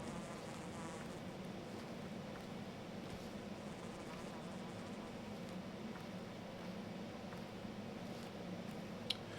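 Insects buzz as a faint, continuous drone near herbs in the video game Pathologic 2, a low steady hum that holds evenly throughout with no clear change in loudness.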